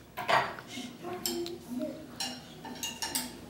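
A metal spoon clinks and scrapes against a plate of octopus with chorizo and cannellini bean ragu, several short separate taps and scrapes up close in a quiet room.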